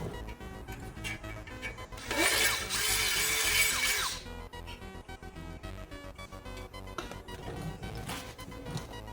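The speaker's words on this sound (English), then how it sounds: "I'm just gonna continue drilling, and then we're gonna bolt this in" Power drill boring a hole in a Cadillac Escalade during a wheel light install, a loud grinding burst lasting about two seconds over steady background noise, then falling back to quieter shop sounds.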